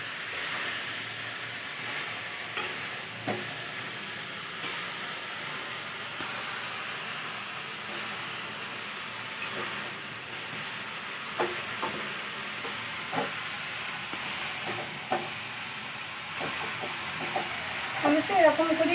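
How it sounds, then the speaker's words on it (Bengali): A vegetable curry with prawns is stirred and fried in a pan, giving a low steady sizzle with occasional soft scraping clicks of the spoon, faint and continuous throughout. "একটু নেড়ে চেড়ে নিই।"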